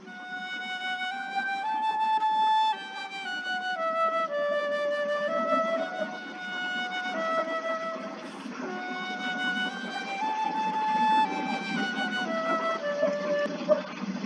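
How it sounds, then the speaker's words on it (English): A flute plays a melodic line of sustained, clear tones with steady phrasing, alone and without talk. "here's the sound of a flute"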